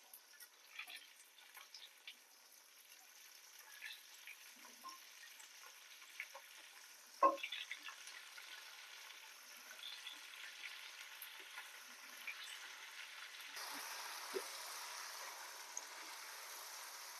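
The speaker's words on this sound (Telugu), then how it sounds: "ఇప్పుడు దీంట్లోకి చికెన్ యాడ్ చేద్దాం." Chicken stir-fried in a pan, a soft, continuous frying hiss with occasional scrapes and one sharp clink, fairly faint and close, with no talk.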